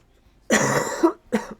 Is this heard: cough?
yes